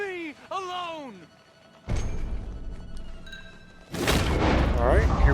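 Gunfire in the Western video game Red Dead Redemption: two loud, close blasts with sustained noisy tails, each cutting in after someone talks.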